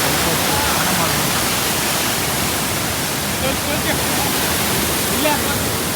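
Bangara Kusuma waterfall at Gerusoppa near Honnavar roars with a loud, unbroken rush of falling water that fills the whole scene and stays steady throughout.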